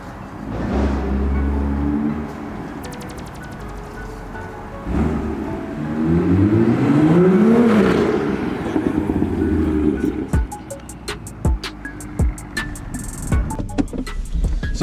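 A tuned BMW M2 Stage 2+ producing 442 bhp drives on the road, its engine droning and rising through loud revving pulls with gear changes, then sharp popping and crackling bursts near the end.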